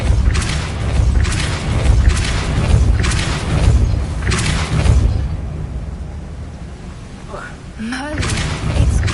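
Explosive blasts from spells cast in the Hogwarts Legacy video game: a rapid series of loud booming thumps for about five seconds, then a quieter stretch with brief swooshing magical effects and another burst at the end.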